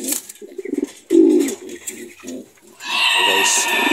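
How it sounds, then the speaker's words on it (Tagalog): Pigeons in a loft give soft, low, repeated coos in short throaty bursts, close by. Brighter chirping and rustling from other birds join toward the end. "Check natin yung mga ibon natin guys, kasi baka nayari yung mga sisiw dito guys."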